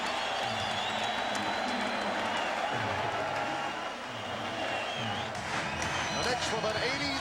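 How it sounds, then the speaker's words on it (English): An arena crowd at Game 5 of the 1994 NBA Finals, Rockets at Knicks in New York, murmurs and roars steadily during a timeout, with sneaker squeaks and a commentator talking over the noise. "The crowd reacts with the Knicks up by 3 and the Rockets calling for time."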